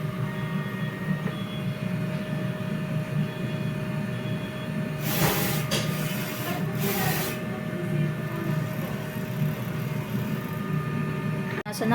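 A DTF printer runs a print head cleaning cycle, giving a steady mechanical hum with faint whine, broken midway by a few short hissing bursts of the pump and wiper.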